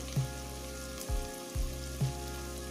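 Tomatoes and carrots sauté in an oiled pan for rava kichadi, a steady close sizzle with a few soft stirring thumps recurring about twice a second.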